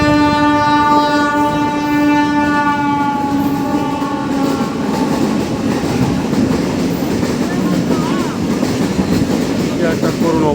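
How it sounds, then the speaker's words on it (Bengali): A train passes close by at the spot where a truck and a train collided, opening with a loud, sustained horn blast that gives way to heavy rumbling and clattering wheels. "আবার ট্রেন আসতেছে"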